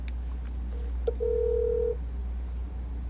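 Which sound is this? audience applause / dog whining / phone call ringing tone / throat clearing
phone call ringing tone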